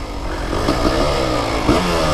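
A Honda Grom motorcycle fitted with a two-stroke CR250 engine and an expansion chamber revs hard, a loud, close, continuous raspy drone that stays near full throttle with slight surges throughout.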